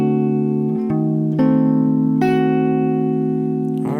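A guitar sounds a diminished chord in a chord-melody arrangement, its notes added one by one on the strings and ringing out clean and sustained, close and alone.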